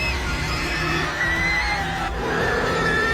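An unearthly shriek from a blown whistle in a movie scene, a loud sustained high wailing tone that wavers and shifts pitch, with a crowd-like roar beneath it.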